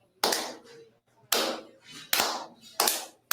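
A wrestler imitates wrestling fans' clapping with four loud, sharp bursts of hand claps, each decaying quickly and spaced roughly a second apart, close and alone without talk.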